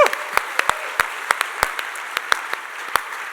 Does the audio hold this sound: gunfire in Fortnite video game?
no